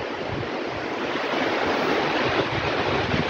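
Strong cold wind roars steadily against the microphone outdoors, a loud, continuous broadband rush with no voices.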